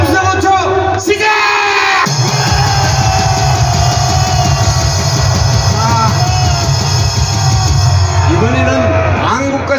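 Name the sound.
rally crowd shouting on cue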